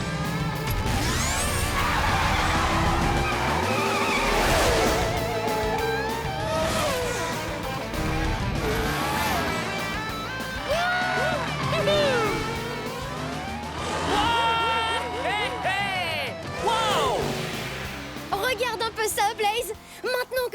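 Cartoon race car speeding and skidding, with loud engine whines, screeches and crash-like hits under continuous music and effects, sweeping pitch glides throughout.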